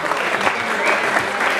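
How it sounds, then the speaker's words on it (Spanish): An audience claps at a mariachi birthday performance, a brief burst of close, brisk applause. "Un aplauso bien fuerte."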